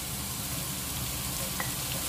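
Chopped onion sautés in a hot pan for Filipino creamy corn with paprika, giving a steady, even sizzle and frying hiss that holds throughout with no break and no talking.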